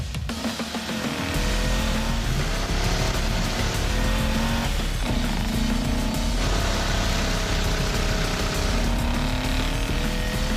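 Stubby Bob and a dune buggy race side by side on a dirt track, engines droning loud and steady together with rising and falling revs, tire and dirt noise throughout.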